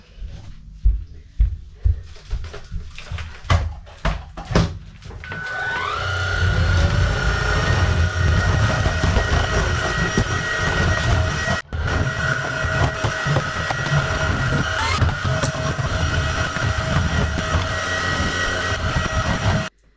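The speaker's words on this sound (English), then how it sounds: "let's give this floor a quick razz with the hoover" A hoover runs across a floor, starting after a few loud knocks and bumps, then a sustained loud motor drone with shifting tone for most of the stretch before cutting off abruptly at the end.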